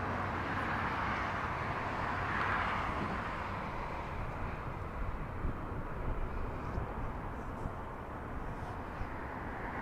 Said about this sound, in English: Japan Airlines about to make the left turn on Taxiway Bravo, officially heading south.